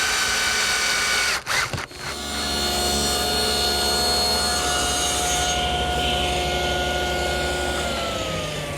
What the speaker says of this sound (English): that gets attached with some screws through the bottom.